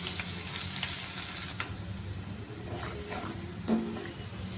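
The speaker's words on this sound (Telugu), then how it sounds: "తర్వాత ఒక మూడు ఎండుమిరపకాయలను కూడా వేసుకుంటున్నాను మనం దంచి పెట్టుకున్న వెల్లుల్లిని కూడా ఇందులో వేసేసుకోవాలి" Three dry red chillies and crushed garlic fry in oil, a constant close sizzle for tomato pickle with a few light clinks of a utensil against the pan, one sharper tap near the end; no talking.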